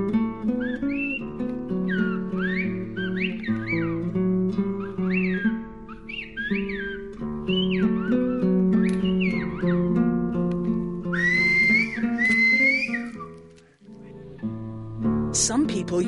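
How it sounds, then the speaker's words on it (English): People whistle loud, sliding, melodic calls outdoors in an old European national park forest, used to communicate across distances. The whistling continues steadily over a low background hum, with brief pauses. "Depending on factors like the wind, whistling can be heard up to 3 kilometres away."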